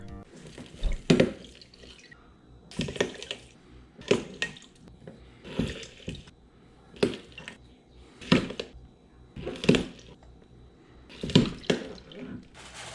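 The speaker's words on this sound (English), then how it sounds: "We'll grab our old juicer, the Juice-O-Mat, and begin our squeezing ASMR." Lemons are squeezed in a Juice-O-Mat juicer at close range, giving about ten evenly spaced bursts of wet crunching and squishing with quiet pauses between them and no talk.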